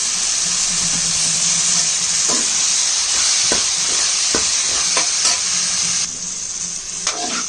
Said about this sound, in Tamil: கத்திரிக்காய் நல்லா வதங்கிடுது